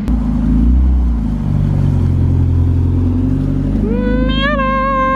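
Mazda Miata engine running steadily with a low, continuous rumble, rising in pitch near the end as the car revs and pulls away, loud and close.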